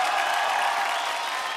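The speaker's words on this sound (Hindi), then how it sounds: "उसके लिए भी जोरदार तालियां" A short burst of comedy show audience applause, a bright dense wash of clapping that stays steady and fairly loud throughout.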